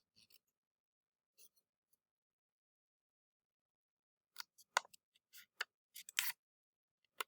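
Paper being folded into a pentagon, with sparse, faint crinkles and creases followed by a cluster of sharper rustling snaps, alone in near silence.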